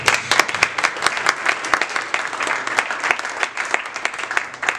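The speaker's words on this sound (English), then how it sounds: "can I get another huge round of applause for our entire board?" An audience gives a steady round of applause for an event board at an evening program, dense clapping from many hands sustained at moderate volume throughout, with no voices standing out.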